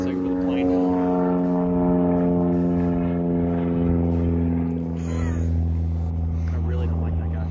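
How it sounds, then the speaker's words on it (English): A private propeller plane flies overhead near a rural property with its own airstrip, a continuous droning engine hum with steady harmonic tones that swells slightly and stays loud throughout. "he flies his plane around all the time"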